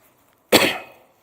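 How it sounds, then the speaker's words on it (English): A single sharp cough, sudden and close, bursting out and trailing off quickly into silence. "and when you cough,"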